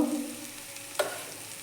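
Ground turmeric, cumin and coriander powder sizzle quietly in a pan, with a short scrape of stirring partway through.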